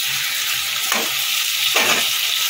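Ginger, tomato and green chili sauté in a hot pan for a Bengali vegetarian mugeshwari taro dish, a constant bright sizzle broken by two quick stirring scrapes.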